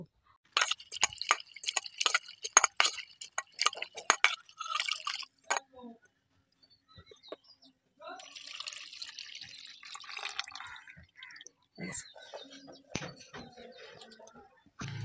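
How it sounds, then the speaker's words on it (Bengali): Taro flowers are rinsed by hand with water, giving close splashing and dripping in bursts with short pauses between, and a bird calls faintly in the background. "এবারে আমরা কচুর ফুলগুলো ভালো করে ধুয়ে নেব।"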